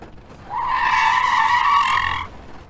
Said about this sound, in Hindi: रवि ने अचानक से ब्रेक लगाया।